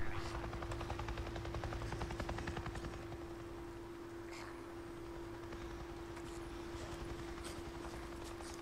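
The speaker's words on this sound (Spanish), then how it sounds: "Ojo, helicóptero." A faint helicopter in the video game Days Gone drones with rapid rotor chopping and a steady low hum, more pronounced at first and then evening out.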